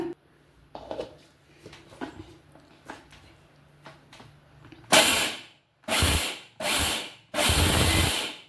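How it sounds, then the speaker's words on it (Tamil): Electric mixer grinder blending soaked rice into a smooth paste: after some quiet clinks and handling, four loud whirring bursts of the motor, each pulse about a second long, close by. "நம்ம ஊற வச்ச அரிசியை வந்து மிக்சியில் சேர்த்து நைஸாக நல்லா பேஸ்ட் போல் அரைச்சி எடுத்துக்கலாங்க"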